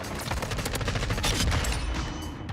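Dense gunfire in Call of Duty: Modern Warfare 2, a rapid fusillade of loud, close shots rolling continuously for a couple of seconds with no talk.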